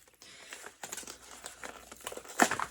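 A bubble-wrapped mail envelope is handled and opened, giving bursts of crisp crinkling and rustling plastic that swell to a loud tearing crinkle near the end, close and otherwise quiet.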